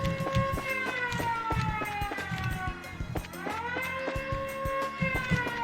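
A looping alarm siren in the video game Trails in the Sky wails in rising and falling sweeps, layered over rapid footsteps and game sound effects, continuous and fairly loud throughout.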